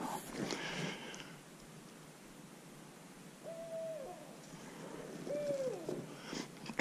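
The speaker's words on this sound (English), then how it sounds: "To the killer owl." An owl hoots in the Upper Buffalo Wilderness woods, with two separate hoots a couple of seconds apart, moderately distant over faint rustling and outdoor background noise.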